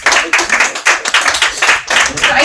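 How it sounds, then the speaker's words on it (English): A round of applause for panel speakers at an event on advancing the Philippine manufacturing sector, loud, close and sustained clapping from an audience with no talk over it. "Let's give them a round of applause, please"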